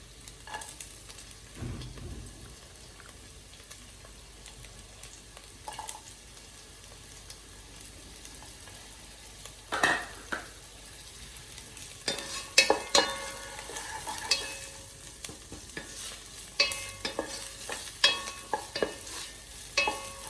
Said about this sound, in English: while this is sauteing, I'm going to add some large onions